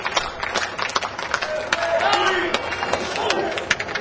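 Crowd at an indoor amateur wrestling event, a murmur of cheering and scattered claps with footsteps and thumps from the ring, while a commentator talks over it.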